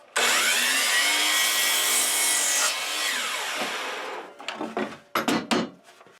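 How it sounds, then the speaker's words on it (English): A power saw cuts a 45-degree angle through knotty pine wood in one loud, sustained, close cut lasting about four seconds. The blade then winds down, followed by a few sharp knocks and rattles of the board. "Now let's just cut the other angle."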